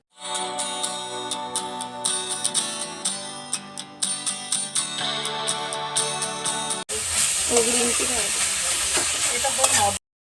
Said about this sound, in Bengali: মাটনটার মশলা কষানো হচ্ছে আর এদিকে বৌদি আরও একটা রেসিপি বানাচ্ছে মাটন এখন কষানো চলছে